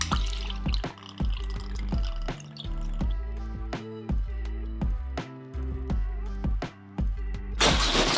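Liquid is poured into a cocktail vessel while a Gin Gimlet is built from lime juice, simple syrup and gin. The splashing and dripping is close and continuous, with a burst of noise at the end.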